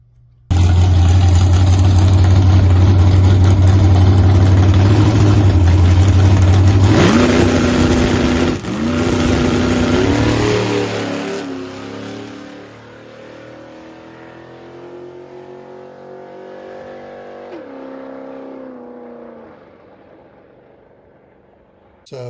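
Drag race car on its first quarter-mile pass, loud engine roaring steadily, then the note drops and shifts as it pulls away, fading into a distant fluctuating drone before near silence.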